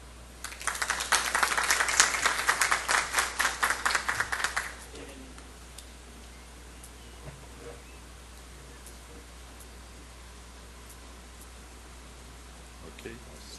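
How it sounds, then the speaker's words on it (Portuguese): An audience at a Parlasul public hearing in Foz do Iguaçu claps for about four seconds, a dense patter of many hands heard from a moderate distance. The applause then stops abruptly, leaving quiet room hum. "Podemos aplaudir."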